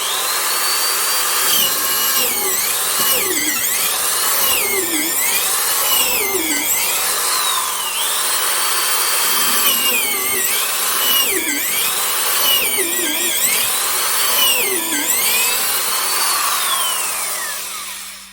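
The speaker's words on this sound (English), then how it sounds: "Just to give it a little sound test." A Black & Decker corded angle drill runs continuously for about eighteen seconds, its motor whine loud and close, repeatedly rising and dipping in pitch as it loads and bogs down under work.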